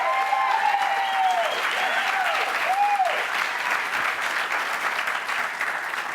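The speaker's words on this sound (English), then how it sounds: "They're clapping, Todd." Studio audience applause at a late-night political comedy talk show, a steady dense wash of clapping sustained throughout with some faint voices and crowd noise mixed in.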